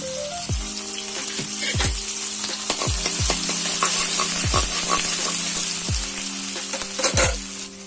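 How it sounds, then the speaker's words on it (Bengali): Vegetables sizzle loudly in hot mustard oil in a pan, with repeated scraping and clinking of a spoon as they are stirred, close up. "চলুন আগে ভেজিটেবলসগুলোকে ভেজে নিই কড়াই গরম হয়ে গেছে সর্ষার তেল দিয়ে দেব"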